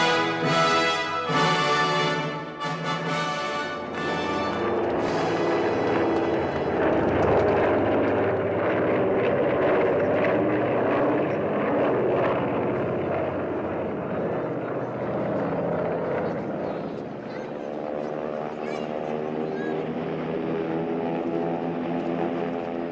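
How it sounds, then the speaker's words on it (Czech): A propeller airplane drones loudly overhead for a sustained stretch, its engine pulsing at first and then settling into a steady roar that swells and slowly eases, with no voices over it. "letadlo na jeho palubě cestuje jeho veličenstvo Oskar 15"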